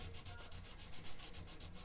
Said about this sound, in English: on the front part, we're gonna sand it off